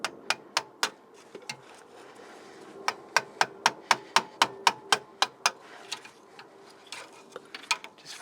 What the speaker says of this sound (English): it's easiest if I just wedge a screwdriver kind of on the side and just kind of tap it up